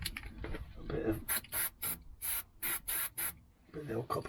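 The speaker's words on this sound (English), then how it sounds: "the old copper slip spray" Copper slip spray hissing onto new shock absorber parts on a Vauxhall Movano van, in a run of short bursts of about half a second each with brief gaps, after some handling noise and a quiet voice.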